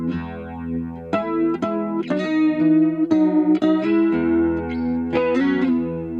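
Electric guitar notes and chords ring out through an Asheville Music Tools ACV-NOS chorus pedal at its traditional phase setting, with a shimmering, warm, swirling modulation and some grit; no talking.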